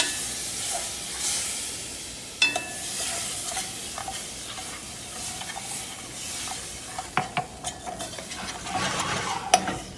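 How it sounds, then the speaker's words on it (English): Steady stirring in a pan of pork mustard gravy as milk is poured in, with a continuous hissing sizzle and occasional spoon scrapes and clinks against the pan. No voices. "we're going to add our milk, but we're going to stir it at the same time, just to ensure that there's no lumps"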